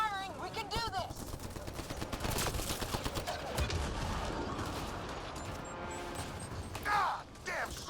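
Sustained bursts of gunfire from a Mass Effect: Andromeda firefight against a swarm of enemies, dense and continuous across the whole stretch, with shouted voices and game effects layered over the shooting.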